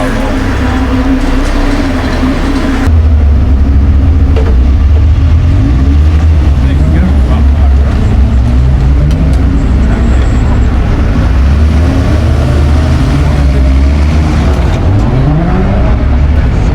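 Race cars at Donington Park during a British Touring Car Championship meeting rumble loudly and steadily as they head out on track, a dense, continuous engine drone with overlapping passes, with people talking faintly underneath.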